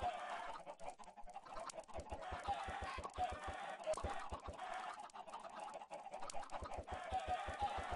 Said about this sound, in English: There's a lot of chickens in here.